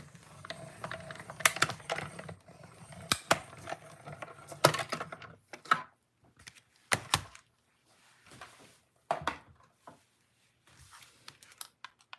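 A manual die cutting machine is cranked by hand through a card-making die, giving a run of sharp clicks and ratcheting knocks in irregular bursts, close and fairly loud, with quiet gaps between.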